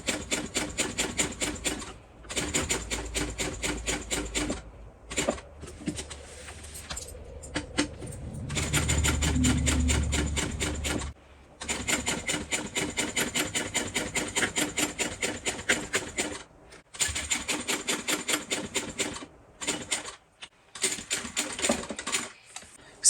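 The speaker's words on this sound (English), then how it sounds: "I'll top stitch these two pieces on" A sewing machine set to top-stitch length runs in repeated bursts, stitching together two pieces of a handmade bag, with brief pauses between runs and a heavier rumbling stretch midway; close and steady, with no talking.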